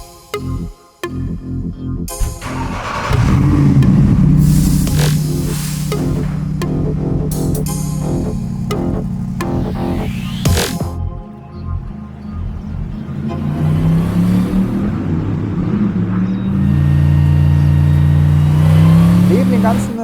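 A Mercedes-AMG GT R revs and accelerates hard on a wet race track after a 140 km/h corner, its loud engine rising and falling through gear changes, close and up front with some cabin noise.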